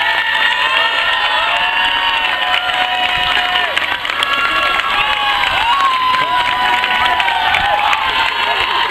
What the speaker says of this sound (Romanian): aplaudă lumea!